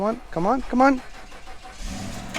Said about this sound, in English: Does this thing even run? Let's find out right now. Let's start it up.